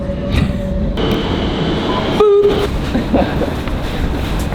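Rumbling train interior noise heading to Footscray station in Melbourne, with steady rolling drone, a brief tonal squeal and some clunks, close and loud throughout.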